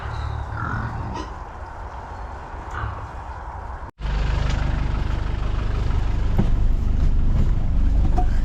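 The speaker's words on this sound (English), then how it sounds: "we're going to set off in the Land Rover up north" A Land Rover engine starts with a sharp break partway through, then settles into a steady, loud low rumble that carries on to the end.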